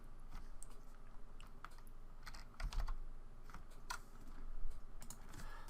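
Steady typing on a computer keyboard, a continuous patter of light key clicks with a few louder presses, close up and with no voices.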